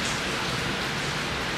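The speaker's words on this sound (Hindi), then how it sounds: "बहुत अच्छी बारिश आ रही है" Heavy rain pours steadily outdoors, a dense, loud, even hiss of drops with no pauses, heard alone without any voices over the brief moment.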